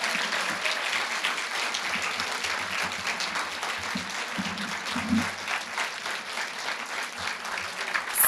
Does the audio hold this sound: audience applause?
yes